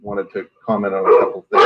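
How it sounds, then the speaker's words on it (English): Dogs at home bark and yip in the background, mostly masked under someone speaking close to the microphone. "You can hear my dogs in the background,"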